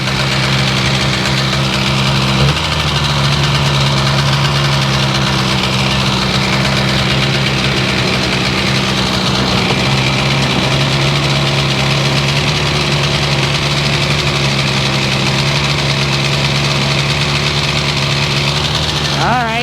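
A Seadoo 787 RFI jet ski engine, recovering from a no-start fault and now running with its throttle position sensor connected, drones steadily and loudly for the whole stretch, with one brief spoken remark.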